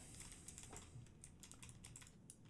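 Rapid, steady typing on a Gamma K61 computer keyboard, a dense run of light clicky keystrokes close to the mic at very low level, with no talking.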